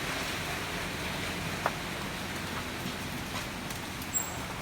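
Rain falls steadily on a work site while a team prepares for a rehearsal, making a dense, even hiss throughout with a few faint drips and taps standing out.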